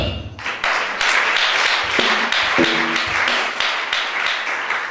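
An audience applauds loudly and steadily throughout a church-style gathering with a prophet, the dense clapping briefly broken by a few tonal voice or horn notes near the middle.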